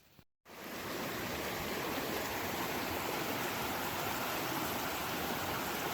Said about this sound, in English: we have returned to the banks of the mighty Chattooga River